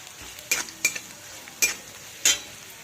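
Onion sautés in a pan over a quiet sizzle, punctuated by four distinct spatula scrapes and clinks against the metal, spaced unevenly and close up.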